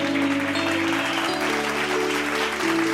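A congregation at a Bible study gathering claps loudly over sustained keyboard chords that shift pitch, the applause forming a dense, continuous layer above the music.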